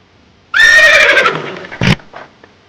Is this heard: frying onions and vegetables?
no